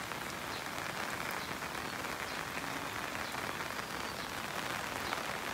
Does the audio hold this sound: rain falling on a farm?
yes